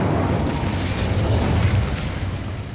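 A fire spell's explosion effect, a sustained loud, rumbling burst of flame with crackling texture that fills the whole moment without a break.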